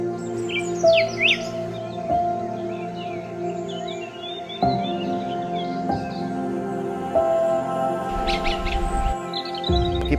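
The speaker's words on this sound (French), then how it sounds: "observer une quinzaine d'espèces d'oiseaux différentes le long du sentier" Birds sing along a forest trail in Barahona, a mix of chirps, trills and whistled calls layered over a steady hum, with some calls close and others farther off.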